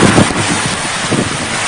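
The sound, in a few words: strong tornado wind destroying house roofs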